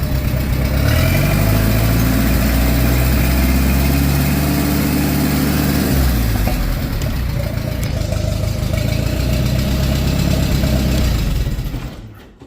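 Allis Chalmers D15 tractor engine idling slightly high, a loud, steady, close-up chugging drone that holds for most of the clip before cutting off.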